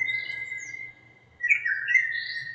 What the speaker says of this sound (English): when you're listening to these birds chirping